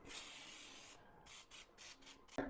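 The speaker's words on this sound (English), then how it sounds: "I'm going to spray them." Cooking spray hisses onto baking pans for Christmas cookies in a short series of close, sharp bursts after a quieter rubbing stretch.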